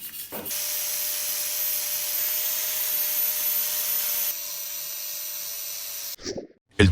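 Welded metal surfaces of a homemade survival biomass stove being smoothed with a power tool: a steady, close abrasive hiss with a faint whine, dropping in level partway through before cutting off, followed by a few brief knocks.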